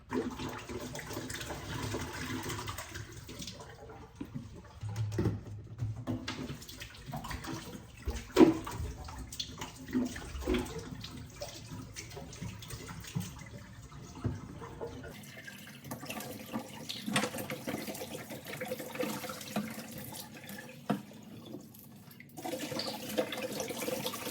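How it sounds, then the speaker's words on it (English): Old stored emergency water is poured out of containers and replaced with fresh water, with irregular splashing and running water at close range, broken by clunks and pauses, and no talking. "I'm gonna switch out all the old water to put in for new water so it's fresh."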